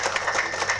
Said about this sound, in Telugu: అందరం గట్టిగా చప్పట్లు కొడుతున్నా.